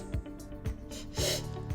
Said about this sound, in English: get in close, take those short, intense sniffs